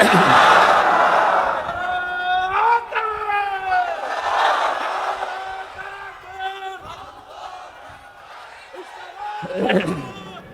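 A large crowd at a Bangladeshi Islamic waz sermon gathering roars back in unison in answer to a preacher's takbir call, loud chanted shouts rising and falling in several swells over about ten seconds with the preacher's voice amplified between.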